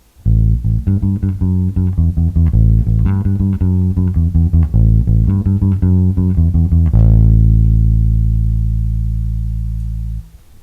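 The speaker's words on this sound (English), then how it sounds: "And we're going to alternate between eighth notes and triplets." Electric bass guitar plays a 1 b7 6 5 line alternating eighth notes and triplets, busy plucked notes for about seven seconds, then one sustained low note decays; loud, close and solo.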